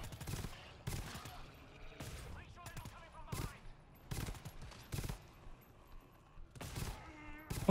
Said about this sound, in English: Oh, I hate this machine gun.